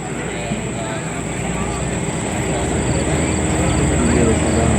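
A steady engine drone from an Interstate Cadet light plane flying aerobatics at an air show, holding a constant pitch against broad wind-like noise and growing slightly louder.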